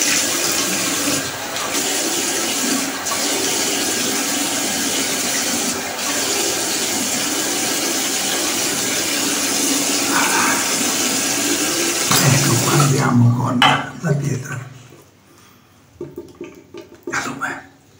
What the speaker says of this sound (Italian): andiamo con acqua fredda.